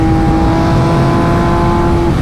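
MV Agusta Brutale 800 RC motorcycle engine running loud and close, a steady strong drone with a sustained tone that shifts slightly in pitch, no voices.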